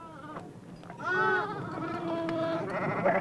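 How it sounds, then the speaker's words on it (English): Sheep on a Navajo family's land bleating, two or three wavering, nasal calls, fairly close and loud, over a low outdoor background. "Sheep have been a part of Navajo life since the 1600s."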